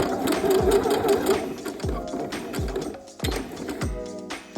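A sewing machine backstitches a pocket on a denim dress, with close, rhythmic mechanical chugging in short bursts and brief pauses between runs.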